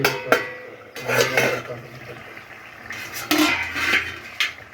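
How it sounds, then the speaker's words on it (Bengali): A metal lid is lifted off a cooking pot of steamed fish prepared in the ilish bhapa style, giving a few sharp clanks and scrapes of metal cookware close by, with faint background noise between the knocks. "তো আমি ঢাকাটা খুলে দেখিয়ে দিচ্ছি।"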